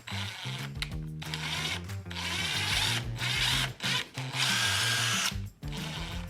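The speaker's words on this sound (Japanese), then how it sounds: "ちょっと下穴開けようドリルで" A power drill whirs loudly in repeated bursts, pausing briefly between runs as it bores a pilot hole during renovation of a 50-year-old traditional Japanese house.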